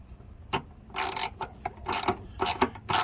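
A ratchet clicks in short bursts close by, loosening 10 mm bolts on the air cleaner housing of a 2015 GMC Terrain, with brief pauses between the runs of rapid clicks.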